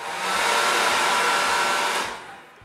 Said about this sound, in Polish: Jedyną przeszkodą w tym teście jest suszarka, która ma bardzo, bardzo słabą moc.